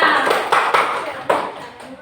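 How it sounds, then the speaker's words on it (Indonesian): Children clap for Rangga in a classroom in short scattered bursts, a few distinct claps standing out over a roomy background, with a teacher's voice nearby. "Kasih tepuk tangan dulu buat Rangga."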